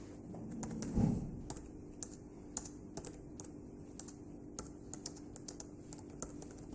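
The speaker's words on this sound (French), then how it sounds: "Vous pouvez tout simplement le taper manuellement." Text being typed by hand on a computer keyboard, a run of quick, light key clicks at an uneven pace, close and alone over a quiet background hum.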